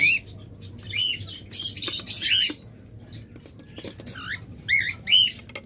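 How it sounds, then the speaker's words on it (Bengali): A pair of cockatiels in a cage give clear, rising chirping whistles in short bursts, with pauses between them, close and fairly loud against a quiet room. "চমৎকার ককাটেল জোড়াটা"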